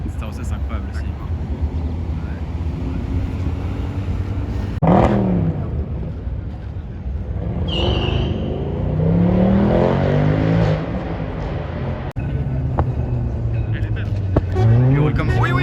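A Ferrari Testarossa passing by at a Sunday car meet in Vauban, its engine swelling loudly and then fading beneath people chatting nearby.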